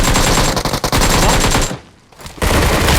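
Rapid automatic gunfire in PUBG Mobile during a ranked match, loud, dense bursts filling most of the clip, with a brief lull near the two-second mark before the firing resumes.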